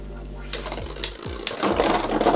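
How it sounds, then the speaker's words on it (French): Beyblade Burst spinning tops, Imperial Dragon and Regalia Genesis, clashing in a stadium battle: three sharp clacking hits a half-second apart, then a loud, dense whirring buzz that swells and holds steady to the end. "Les deux toupies accélèrent."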